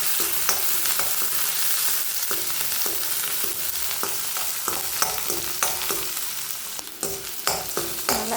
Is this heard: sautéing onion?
yes